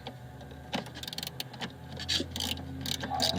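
Bolt being tightened on the front upper control arm of a Mercedes SLK R170, a series of close ratcheting clicks and mechanical rattles in short bursts with no talking.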